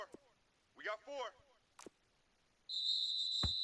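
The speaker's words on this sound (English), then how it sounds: "And now whistles and a flag" Sharp, steady referee whistle blast in a PS4 American football video game, sounding for about a second near the end after brief crowd and commentary bursts, loud and close.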